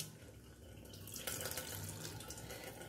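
Water is poured into a small container, a soft trickling splash that grows fuller partway through and stays quiet and close, with no talk.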